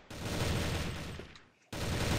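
M16 rifle firing in the CrossFire video game, a dense sustained burst of automatic shots, loud and close, cutting off briefly before another burst resumes.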